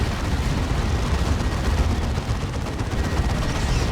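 Dense battle noise from a 3v3 match in the Dawn of War 2 strategy game with D cannons firing: continuous loud rumbling blasts and gunfire blending into one heavy, unbroken roar, with no voices.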